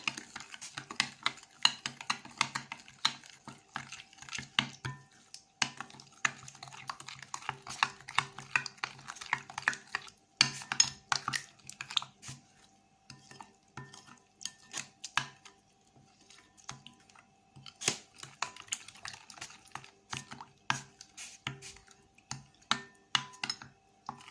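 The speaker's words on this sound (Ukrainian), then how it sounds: "Це все перемішую." Continuous irregular scraping and clinking of a utensil stirring a thick wholemeal flour and yeast dough mixture in a bowl, close and fairly soft, with brief pauses.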